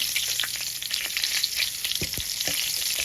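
Duck breast frying in overly hot oil, a steady close sizzle with crackling pops and a few sharper spatters, heard alone without talk.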